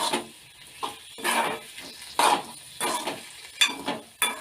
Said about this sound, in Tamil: அடுத்ததாக நம்ம இந்த தக்காளியை நல்லா வதக்கி விடணும்